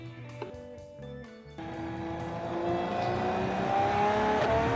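Race car in the Automation video game starting an official test run, engine note climbing steadily into a loud sustained high-revving scream after a brief quieter idle.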